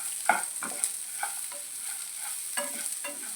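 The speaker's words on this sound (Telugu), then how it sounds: "ఒక ఇంచు అల్లం ముక్క కూడా వేసుకోవాలి ఎక్కువ ఫ్రై చేయని అవసరం లేదండి జస్ట్ అలా ఫ్రై చేస్తే సరిపోతుంది" A small piece of ginger fries briefly in a pan, giving a soft steady sizzle with a few light stirring scrapes and taps, quiet and close.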